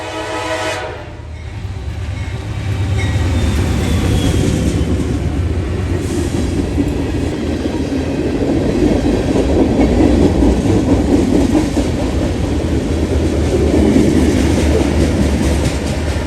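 CSX freight train L424 passes B&O position light signals at the former Tip City siding at night, a loud, steady roar of rolling cars with a faint horn at the start, continuing without a break.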